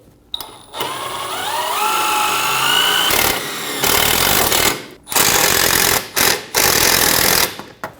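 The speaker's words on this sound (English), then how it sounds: "Using a drill bit, we're going to drill out our rivet for our e-brake cable bracket." A power drill whines at high speed in several bursts, drilling out a rivet on a 2012-2022 Volkswagen Passat e-brake cable bracket, the first long and steady, then shorter stop-start pulses, loud and close.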